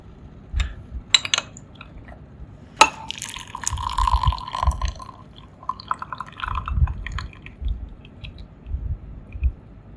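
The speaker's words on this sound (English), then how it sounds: "Pour the water onto the teapot." Water poured over a teapot during a rock oolong (yancha) brewing session, with a soft splashing pour and scattered drips and small clinks against a quiet room, no voices.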